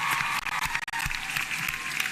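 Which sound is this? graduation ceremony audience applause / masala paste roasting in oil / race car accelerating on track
graduation ceremony audience applause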